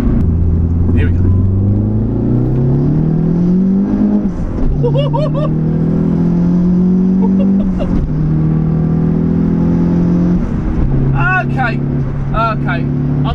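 A turbocharged Renault Clio 182 with about 280 horsepower accelerates hard through several gears, its engine note climbing in pitch and dropping at each shift, loud and close from inside, with voices talking over it.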